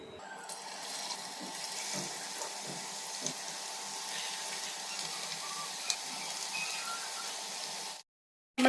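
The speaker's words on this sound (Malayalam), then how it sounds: "പിന്നെ നമുക്കിത് എണ്ണയിൽ കോരി ഒന്ന് പൊരിച്ചെടുക്കാം." Marinated chicken deep-frying in vegetable oil gives a steady, close hiss and sizzle that runs unbroken for about eight seconds before cutting off abruptly.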